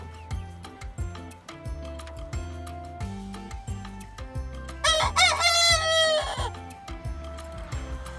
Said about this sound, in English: It is definitely Puddin that is a rooster.